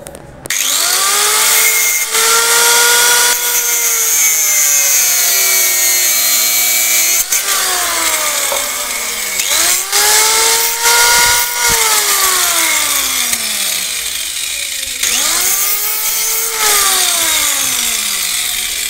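A large nail is blunted with a power tool, likely ground against an abrasive, producing loud, sustained whirring and grinding with shifting pitch sweeps and a few short pauses, very close.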